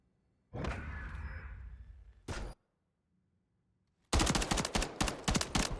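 Gunshots in a competitive shooter match, a couple of heavy reverberant shots early on, then after a silent pause a dense rattling volley of rapid fire.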